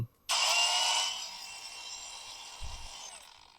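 A Masaru SCG605 4-inch cordless angle grinder on its first speed setting spins up sharply with a high whine, then eases into a steady hum as the motor settles, alone and close.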